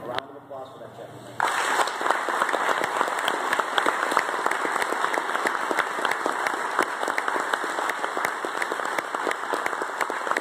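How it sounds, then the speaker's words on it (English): Applause from an audience at a martial arts talk bursts in abruptly after a moment of quieter sound, then continues as dense, steady clapping from a crowd. "So again, a round of applause for that gentleman."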